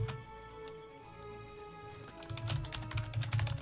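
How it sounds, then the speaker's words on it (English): Computer keyboard typing in a quiet room: a steady run of light clicky keystrokes, close and clear, growing somewhat louder and busier toward the end, with no talking. "I'm just typing this to him."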